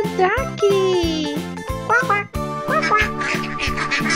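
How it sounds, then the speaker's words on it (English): Cartoon duck quacks in a children's animal-sounds app, several bright quacks over a bouncy jingling music loop, with a child-like voice talking along. "It's a duck."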